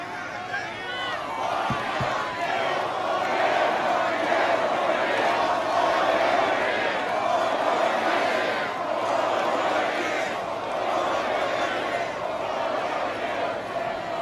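A large political rally crowd in New Hampshire roars with sustained cheering and chanting, dense and loud throughout, with scattered shouts and no clear single voice standing out.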